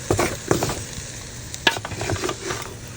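Nigerian fried rice being stirred and mixed in a large pot, with irregular scraping and clattering strokes and a soft sizzle underneath, close and moderately loud, with no talking.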